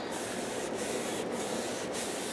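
A hand rubbing a freshly glued album page flat, a continuous close, soft papery friction hiss with a few brief breaks in the strokes and no talking.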